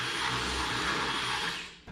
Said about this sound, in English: we'll just drill some new holes to be able to pop our loom up in